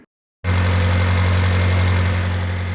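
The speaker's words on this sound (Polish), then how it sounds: "jak słychać to ten silnik pracuje." After a brief silence, a Mitsubishi Lancer 1.6 engine with an ignition misfire on petrol and LPG starts idling with a steady, deep, loud rumble that holds evenly to the end.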